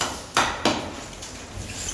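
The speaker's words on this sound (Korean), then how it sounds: "그래서 이걸 망치로 두들겨서" Two sharp hammer blows on the metal frame of a fire-rated apartment entrance door ring out close by, a short pause between them, followed by a faint third tap and quiet room noise.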